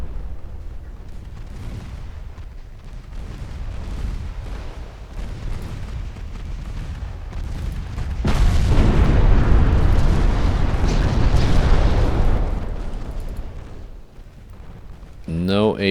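Battleship main-gun salvos boom in the naval game Ultimate Admiral Dreadnoughts, with heavy rumbling blasts that swell midway and then fade, while a voice talks throughout.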